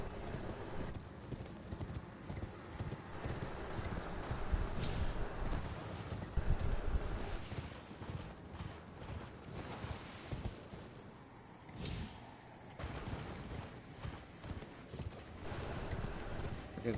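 A ridden horse gallops in a video game, hooves clip-clopping in a steady rapid rhythm throughout, close and continuous over ambient game sound.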